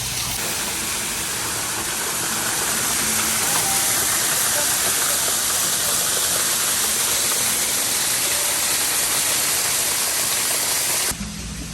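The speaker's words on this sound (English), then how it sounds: "from the gentle flow of the many babbling brooks to the thundering waterfall" A thundering waterfall at Lover's Leap in Rock City, Chattanooga, Tennessee roars as a loud, dense, continuous rush heard close by, with nothing else standing out.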